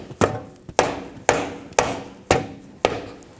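A rubber mallet knocks the axle back into place on a 2000-2006 BMW X5 rear wheel hub, six sharp, evenly spaced taps close up with short ringing decays.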